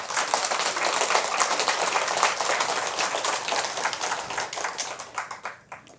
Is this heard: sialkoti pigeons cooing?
no